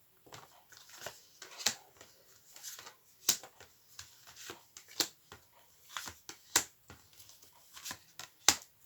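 Tarot cards shuffled and laid down by hand, a run of crisp dry flicks and slaps at irregular pace, close and fairly quiet, with no talking.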